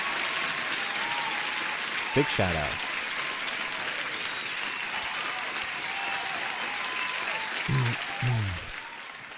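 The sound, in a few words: applause sound effect on live stream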